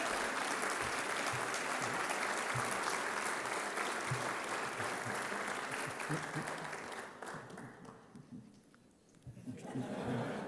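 Lecture audience at an ACM Turing 50th celebration applauding in a large hall, a dense, sustained wash of clapping that thins and fades out near the end, with a bit of speech coming through underneath.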